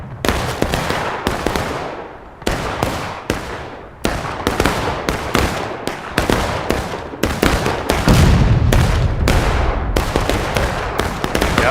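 Artillery in a Manassas Campaign Civil War battle game booms in rapid, irregular succession, dozens of loud, close cannon blasts overlapping into a dense barrage that thickens toward the end.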